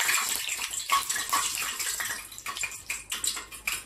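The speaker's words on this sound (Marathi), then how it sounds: "तर आपण आता ह्याच्यात तेल गरम केलेलं टाकू" Heated oil being poured into egg fritter batter, a run of bright, bubbly splashing and trickling with uneven bursts, close and fairly quiet.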